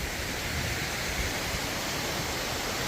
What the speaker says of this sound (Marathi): हे महाबळेश्वरच्या घाटातला धबधबा आहे